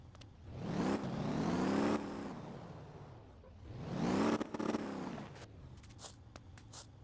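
A compactor garbage truck's engine in the video game Motor Town whirs up and fades away twice in slow, smooth swells, fairly quiet, followed by a few short clunks.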